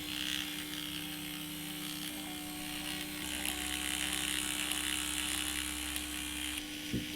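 An InkJekta Eclipse rotary tattoo machine runs at around 10 volts, giving a smooth, continuous motor whir with a steady hum that shifts slightly in pitch partway through, close and fairly quiet.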